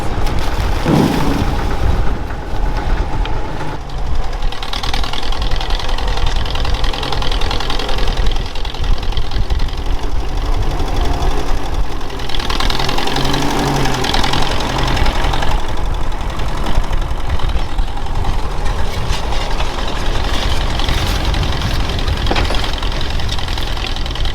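An old tractor engine runs loud and close, with a steady chugging, knocking rumble and occasional rises in revving throughout.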